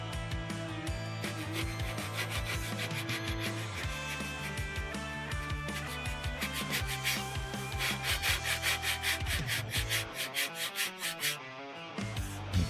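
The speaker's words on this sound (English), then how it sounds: "Now I'm going to take my sanding block, start with lightly sanding those little marks out." A sanding block rubs across a model airplane wing from a SIG kit build, giving a close, steady scratchy back-and-forth rasp in an even rhythm, with the strokes growing more distinct toward the end.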